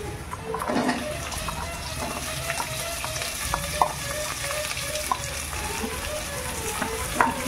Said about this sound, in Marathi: त्याच्यानंतर आता थोडा कांदा शिजलेला आहे, शिमला टाकू आपण